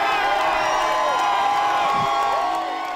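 A crowd cheering and whooping as a Dallas salon owner tears up a citation, a dense continuous roar of many voices that stays loud for the whole moment and eases slightly at the end.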